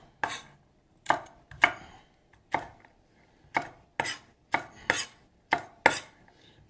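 Knife chopping beef for fajitas into bite-sized pieces on a cutting board: about a dozen crisp, close thuds in an uneven rhythm, with quiet gaps between strokes and no talking.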